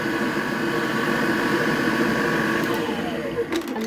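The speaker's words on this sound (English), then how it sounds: "So we'll give that a mix, just so that it all combines, the cheese and the cream." An electric mixer whirs steadily as it blends cream cheese and cream for a Biscoff cheesecake, a continuous close motor drone that carries on without a break and shifts slightly near the end.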